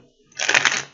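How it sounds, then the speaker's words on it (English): Tarot cards are riffled in a single quick shuffle, a close, crisp burst of fluttering card noise lasting about half a second. "Last shuffle."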